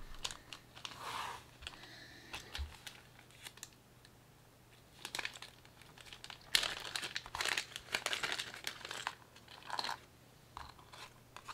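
A small plastic bag of Fishman guitar pickup parts is opened, giving quiet, close crinkling and rustling in irregular bursts, with some brief pauses in between.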